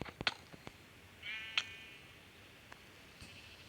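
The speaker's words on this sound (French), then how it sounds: "Viens ici, petit mouton." Sheep bleating in the Minecraft video game, a clear wavering bleat near the middle of the clip, surrounded by sharp clicks and brief game sound effects over a quiet background.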